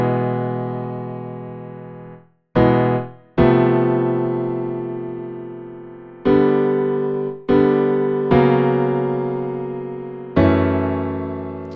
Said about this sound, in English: I just transcribed everything from guitar to piano, and it sounds like this.